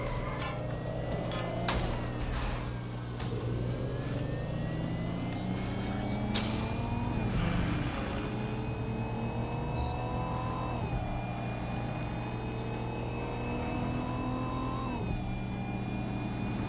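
A car driven in the video game Watch Dogs: Legion on PS5, engine droning steadily with rising and falling revs and gear-shift sweeps throughout, plus a few brief knocks early on.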